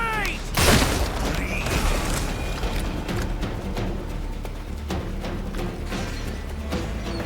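A grenade blast in Assassin's Creed Black Flag: a loud boom near the start that rolls off into debris and rumble, followed by scattered thuds and clatter from the game under a continuous noisy backdrop.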